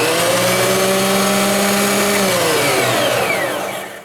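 An Einhell TC-SP electric wood planer-thicknesser whines steadily with a high motor hum, holding constant before spinning down toward the end.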